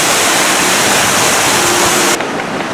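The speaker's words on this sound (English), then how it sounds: "Thunder Canyon is a water rapids ride." Roaring rushing water on the Thunder Canyon rapids ride at Cedar Point amusement park in Sandusky, Ohio, a loud steady wash of splashing that drops off sharply near the end.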